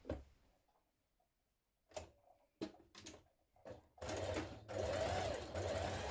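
Sewing machine stay stitching along the neck edge of a blouse yoke: after a few short taps and starts, the motor runs in a loud, steady burst through the final two seconds, with no voices.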